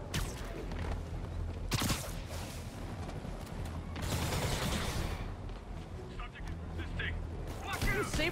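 Sable agents fire guns in Marvel's Spider-Man Remastered: loud, broadband bursts of automatic gunfire come in several volleys over continuous game noise, with short pauses between.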